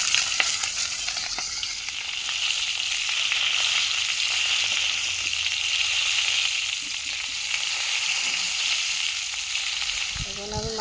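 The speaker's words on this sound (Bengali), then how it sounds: "মাথাটিকে এখন ভাজবো।" A fish head rubbed with turmeric and salt fries in oil in a wok, giving a steady, close sizzle that runs unbroken and fairly loud the whole time, with no voices.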